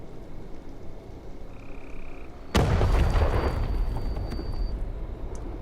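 A sudden, loud explosion bursts from a quiet, steady background in an animated episode, followed by a heavy rumbling roar that stays strong and slowly fades over several seconds.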